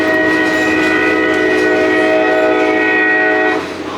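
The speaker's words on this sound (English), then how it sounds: "that's our train horn" A loud, sustained train horn, heard from inside a caboose at the Nevada State Railroad Museum, blares steadily with rich harmonic tones for several seconds, then cuts off, leaving rumbling rail noise.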